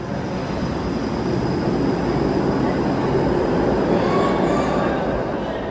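A streetcar rolling steadily along tracks in Toronto, a loud continuous rumble with a faint high whine from the wheels.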